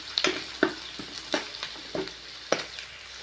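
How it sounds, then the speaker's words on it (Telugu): Finely chopped onions frying in a pan until golden, a soft steady sizzle broken by several sharp stirring scrapes and clicks at uneven intervals. "ఆనియన్స్ చిన్నగా వేసుకొని ఇది కొంచెం గోల్డెన్ కలర్ వచ్చే వరకు వేపుకోవాలి"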